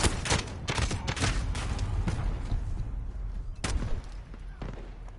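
Repeated Dragunov sniper rifle shots ring out during long-range video game combat, sharp loud cracks spaced irregularly over a constant rumbling battle din.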